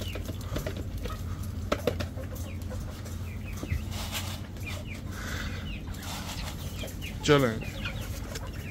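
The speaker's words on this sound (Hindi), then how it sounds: "अब हमारे असील चूजे भी काफ़ी बड़े हो गए हैं, तो ये भी ये दाना बड़े शौक से इंजॉय करके खाते हैं।" Young Aseel chicks pecking at scattered feed on a backyard poultry setup, a busy chorus of soft clucks and chirps with a louder squawk near the end, and someone speaks briefly.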